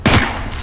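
A sharp burst of gunfire from the video game Wanderer: The Fragments of Fate, a loud close crack followed by a rattling tail and a second quicker volley near the end, with no voices.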